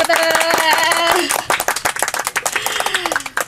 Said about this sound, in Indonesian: kita kasih tepuk tangan lagi